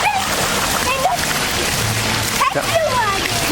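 A child splashes water in a pool at a water park, sending up continuous loud splashing and sloshing close by while an adult and children talk and call out over it.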